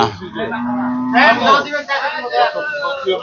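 A cow gives a long, low moo up close, then people talk over it and the lowing fades under their voices.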